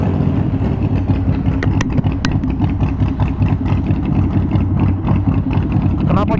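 A Harley-Davidson Roadster 1200 with a replaced exhaust rumbles at a steady, loud idle close by, with a voice speaking over the engine.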